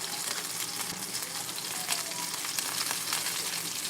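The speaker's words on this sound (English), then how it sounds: "stir around my green beans really quickly." Green beans stir-fried in a hot pan with garlic give a steady, close sizzle, with faint scraping from stirring running through it and no one talking.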